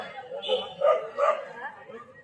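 Dogs bark near a temple in Pandharpur, with a few short, sharp barks in quick succession close by, set among people's voices.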